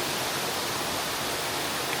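Waterfall in Ishigaki, Japan, a continuous broad hissing roar of falling water, steady and fairly close, with no voices.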